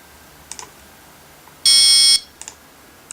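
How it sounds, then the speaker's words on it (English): A single sustained piezo buzzer tone lasting about half a second, loud and shrill, surrounded by a few faint clicks in an otherwise quiet room. "after every 5 seconds the buzzer will go"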